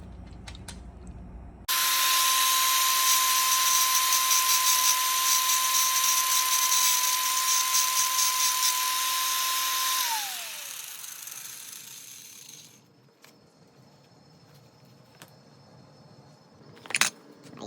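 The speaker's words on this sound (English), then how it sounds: "Right now I'm trying to grind this down," A power grinder cuts down the chain links of a Kawasaki ZX14R motorcycle, starting abruptly into a loud, steady high whine for about eight seconds, then spinning down, followed by quieter clicks and handling noises.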